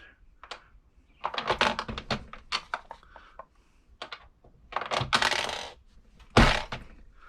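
Metallic clicks, scrapes and grinding crunches come in irregular bursts close by as a Lee Bulge Buster die pushes the bulge out of a brass cartridge case.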